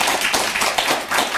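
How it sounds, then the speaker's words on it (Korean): A church congregation bursts into a brief round of applause, many hands clapping in a close, dense wash that holds steady and loud for about a second and a half. "하나님께 큰 박수 한번 보내드릴까요?"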